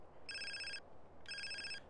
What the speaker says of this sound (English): Whose phone is that in the game?